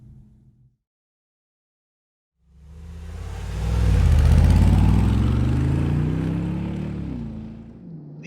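A 2019 Mercedes-AMG G63 with a twin-turbo V8 pulling away after a brief silence, its deep exhaust rumble swelling to a loud, close roar and then easing slightly as it drives on, with no talking.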